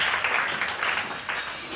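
A church congregation applauds, steady clapping from many hands swelling in waves, loud and close for a short stretch with no speech over it.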